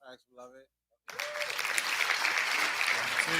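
A short burst of talk gives way to a sudden, loud round of applause from a live audience, thick sustained clapping that continues to the end.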